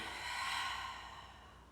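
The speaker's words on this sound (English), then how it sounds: "So nice deep breath in" A single slow, deep breath taken during a calm yoga session, a soft breathy rush that swells and then fades, heard close and quiet on its own.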